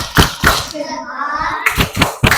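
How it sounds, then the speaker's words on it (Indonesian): Classroom of children doing a thumb clap chant, sharp rhythmic claps in groups with a chanted voice sustained between them, loud and close. "Tepuk jempol."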